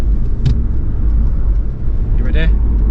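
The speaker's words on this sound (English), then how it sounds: "I just want to let you listen to the car and see what it sounds like" Through an open window of a moving car, the engine hums as a steady low rumble mixed with road noise, with a brief voice partway through.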